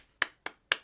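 Three sharp hand claps ring out in an even rhythm, close and crisp, with near silence between them.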